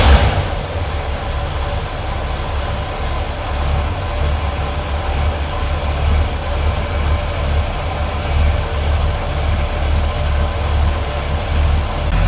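A 1965 Chevrolet Impala's 327 V8 running steadily after startup, a loud continuous low rumble with a constant mechanical drone and no voices.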